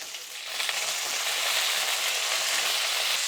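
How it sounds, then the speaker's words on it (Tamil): Onion and drumstick pieces sauté in hot oil for drumstick sambar, a soft steady sizzle that swells slightly after the first half second and then holds an even hiss. "முருங்கைக்காய் வெங்காயம் எல்லாம் சேர்ந்து வதங்கும் போது பாதி அளவுக்கு வந்து முருங்கைக்காய் வந்து நல்லா எண்ணெயிலே வதங்கிடும்"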